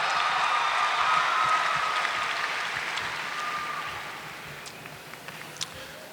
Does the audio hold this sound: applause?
yes